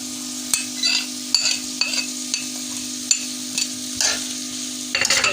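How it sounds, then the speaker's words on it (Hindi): Chicken pieces with cubed capsicum and chopped onion frying in a pan, a bright continuous sizzle broken by repeated scrapes and taps of a spatula stirring, close and loud with no talking. "चिकन हल्की सी फ्राई होने के बाद उसमें शिमला मिर्च क्यूब्स में कटी"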